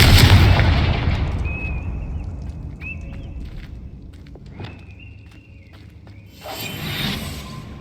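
Hogwarts Legacy spell combat opens with a loud, low boom that decays over a second, followed by sparse whooshing magical tones and light steps, then a second rushing burst near the end.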